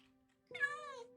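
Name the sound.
cat meowing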